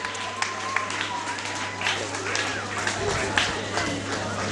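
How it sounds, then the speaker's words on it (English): An audience at a professional event in Lagos gives a round of applause, a steady dense crackle of many hands with a low room hum and crowd murmur beneath. "Please give him a round of applause."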